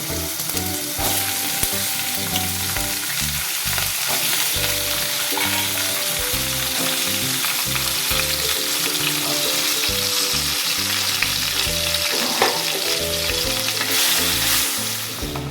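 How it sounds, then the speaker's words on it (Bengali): Apples frying in hot oil tempered with mustard seeds, for a date and apple chutney with mango and ginger: a steady, dense sizzle with occasional stirring, running the whole time beneath continuous background music. "সর্ষে ফোড়ন যখন ছাড়বে তখন দিয়ে দিতে হবে"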